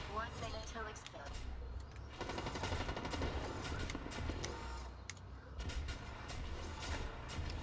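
Rapid automatic gunfire bursts in the shooter game Blacklight Retribution, rattling fast and fairly faint with short pauses between strings of shots, while a voice talks over parts of it.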